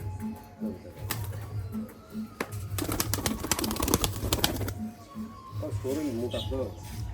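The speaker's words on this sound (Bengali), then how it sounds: "এগুলো খুব ঘন বাজির কবুতর" Pigeons of a fancy tumbling breed coo in low repeated bursts close by, under someone talking, with some handling noise and clatter in the middle.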